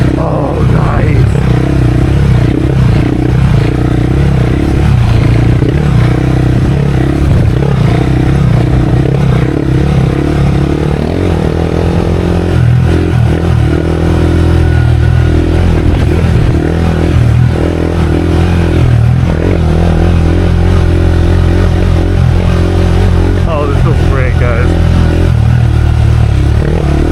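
KTM 390 Adventure motorcycle ridden off-road through whoops, its engine droning loud and close throughout with rattling suspension clatter and surges of revving, and a rider talking briefly.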